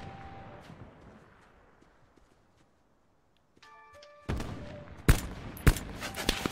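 Gunfire in the Black Ops 4 Blackout battle royale game, with a quiet stretch and a few beeping interface tones leading into sudden loud bursts of shots and sharp impacts in the last couple of seconds.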